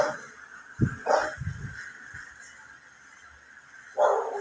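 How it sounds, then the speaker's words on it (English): Dogs kept outdoors give a few short, muffled barks and yips from a distance, scattered irregularly over a quiet background. "I got the dogs outside and the cats inside"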